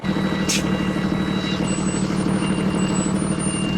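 A hotshot pickup truck idles with a constant low diesel rumble as it parks, broken early by one short, sharp hiss of air brakes, with faint steady electronic tones continuing in the background.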